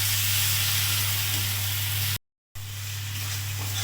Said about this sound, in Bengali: এবার ভালো করে মশলা একসাথে কষিয়ে নেব।